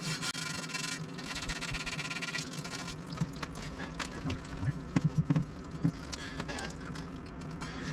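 Copper pipe being hand-sanded with fine 180-grit sandpaper while fitting a drinking-water filter system, a steady close rasping rub with scattered clicks and taps from handling.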